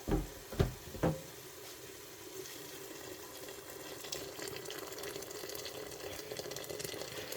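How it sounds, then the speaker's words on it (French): Boiling water is poured into a pot of Tunisian chorba soup with barley semolina, after a few sharp clunks at the start; then a steady, even stream of splashing and filling continues throughout. "je vais ajouter tout simplement de l'eau bouillante."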